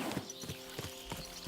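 A beginner horse walks in Kingdom Come: Deliverance II, its hooves clip-clopping in an even, unhurried rhythm of about four distinct thuds, moderately close and clear, with no talking over them.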